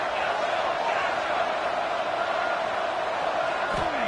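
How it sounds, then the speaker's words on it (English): Dense, steady roar of a college football stadium crowd at Ole Miss, urging the defense on during a third down, a continuous wash of cheering voices with no breaks. "Crowd getting this defense whipped up on third down"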